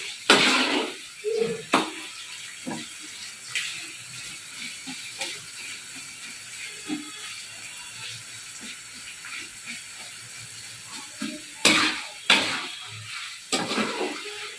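Onions fry in hot oil in a pan for mutton curry, a soft steady sizzle broken by several sharp bursts of crackling and spatula scrapes, close by and with no talking.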